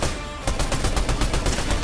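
Gunfire in the video game Fortnite: a rapid burst of repeated, evenly spaced shots, loud and close, after a brief lead-in.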